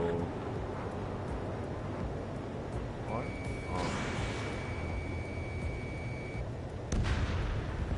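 Anti-aircraft guns fire in a combat video game, a continuous low booming barrage with occasional sharper bursts under radio-style voices talking.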